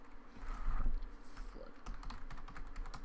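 Quick clicking keystrokes on a computer keyboard, a rapid patter of light taps after a muffled bump, fairly faint and close, with no talking.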